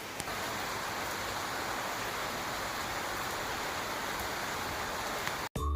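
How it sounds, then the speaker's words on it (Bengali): Steady rain falls on a Monday in the monsoon month of Shraban, an even, broadband hiss that holds constant before cutting off abruptly at the end. "এদিকে বৃষ্টি স্টার্ট হয়ে গেছে"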